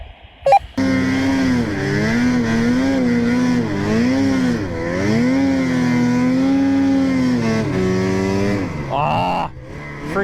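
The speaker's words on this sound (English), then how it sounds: "As soon as I let off the throttle and get back on, I got a terrible bog." A snowmobile engine revs and bogs after the throttle is eased and reapplied, its droning pitch rising and sagging repeatedly, loud and near, with a few brief knocks at the start and end.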